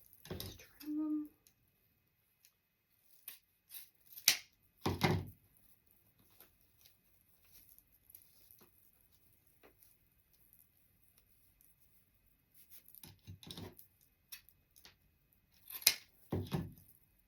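Sharp, scattered snips of scissors trimming flower stems for an Easter floral candlestick arrangement, coming in short clusters separated by long quiet gaps, with a brief voice near the start.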